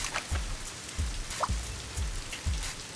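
Rain falling in the video game Scribblenauts Unlimited, soft patter with a few louder drops landing at irregular intervals, no talking.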